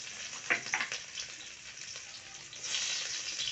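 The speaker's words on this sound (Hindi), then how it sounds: "देखिए तेल हमारा गरम हो गया, और प्याज डाल लेते हैं हम लोग भूनने के लिए।" Onions fry in hot oil in a kadai, giving a steady close sizzle with a few louder crackles and stirring scrapes early on.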